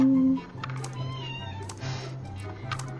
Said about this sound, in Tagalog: Kinakausap ako ng pusa ko.